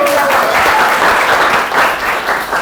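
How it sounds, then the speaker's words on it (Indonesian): A room full of people clapping steadily, dense and continuous applause that holds at an even level before easing slightly. "beri tepuk tangan"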